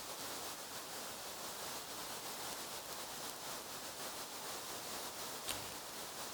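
Steady, even broadband stereo hiss from an audio noise plugin fills the whole stretch at low volume, constant and unchanging, with no other sounds over it.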